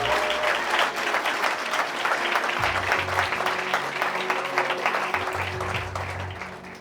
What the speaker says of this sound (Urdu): زوردار تالیاں خدا کے کلام کے لیے